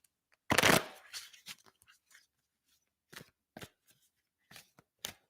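Tarot cards shuffled by hand, a loud riffling burst near the start followed by scattered soft taps and flicks of cards being handled, close and alone without talk.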